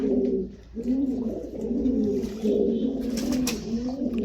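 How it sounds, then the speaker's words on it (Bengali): Pigeons bathing coo steadily nearby, several low throaty rolling calls overlapping throughout, with faint splashing or wing flicks near the end and no talking. "এই যে কবুতরগুলো গোসল করতেছে"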